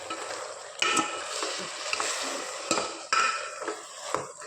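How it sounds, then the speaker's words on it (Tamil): Cooked sour greens being mixed in a pan, a utensil scraping and stirring with a few sharper knocks against the metal, close and moderately loud with no talk. "இப்போ இதிலே வந்து நல்லா மிக்ஸ் பண்ணி விட்டுக்கலாம்."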